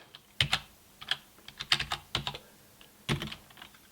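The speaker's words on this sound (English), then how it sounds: "I type in the same program that Robin did." Irregular clicking keystrokes on a Commodore 64 keyboard as a program is entered, close and fairly quiet, with bursts and short pauses between presses.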